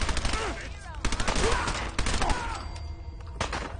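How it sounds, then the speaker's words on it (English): A Tommy gun fires in Fallout 4 in rapid automatic bursts of sharp, crackling shots that carry on almost without a break for several seconds, with faint voices underneath. "Ah, Tommy gun!"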